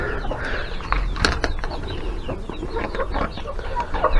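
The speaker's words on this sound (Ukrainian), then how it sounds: "Зараз я відкрию курям, хай вони вийдуть" Chickens clucking and squawking close by, with scattered rustling and clattering noises mixed in.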